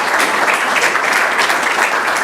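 Steady applause from an audience at a school board business meeting, a dense wash of hand claps holding at an even, moderately loud level with no talking over it.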